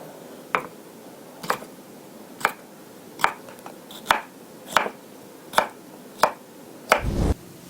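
A knife chops through cucumber on a cutting board in sharp, evenly spaced strokes, about nine distinct close thuds roughly a second apart, ending with a slightly longer, rougher cut.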